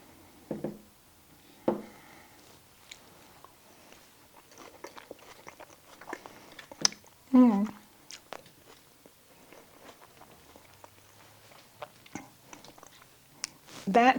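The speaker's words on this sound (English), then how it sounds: "so now I'm going to taste the salad and see how close it is" Salad is chewed and crunched close to the mouth in scattered bites, with soft crisp crackles and occasional louder crunches amid quiet pauses.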